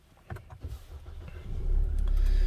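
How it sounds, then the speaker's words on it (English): A 2022 SsangYong Musso pickup truck's engine starts nearby: a few clicks and a brief crank, then a low diesel-like rumble that builds and settles into a steady idle. "if I just go and start the truck very quickly"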